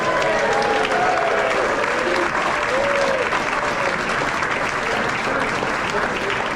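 Audience at a Lane Tech high school basketball banquet breaking into steady, full applause that lasts throughout, a dense clapping wash with a few cheers from the crowd.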